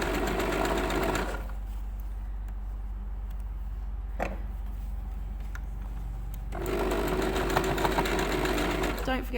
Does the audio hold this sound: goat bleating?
no